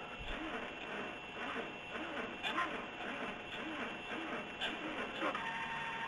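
An Emco CNC lathe under LinuxCNC control moves with a repetitive whirring, stepping motor sound in regular pulses, a steady mechanical drone with faint periodic clicks.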